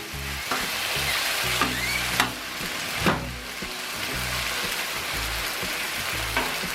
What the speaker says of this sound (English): Get that stir fried up.